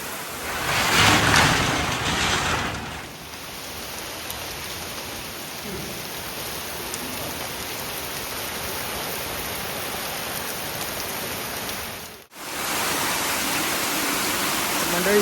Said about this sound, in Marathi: जबरदस्त पाऊस दिलेलो हा